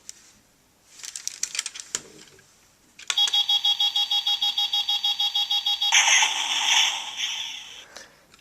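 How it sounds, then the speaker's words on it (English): The R.I.C. robotic interactive dog toy gives a run of rapid, evenly spaced electronic targeting lock-on beeps that speed into a steady pulsing tone, then shifts to a louder buzzing blast sound. "It's kind of like targeting lock-on kind of thing before getting to the actual blast sound."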